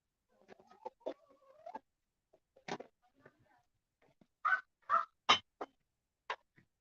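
Chickens clucking and squawking in a series of short calls, with a few louder bursts of crowing-like cries, close and otherwise quiet.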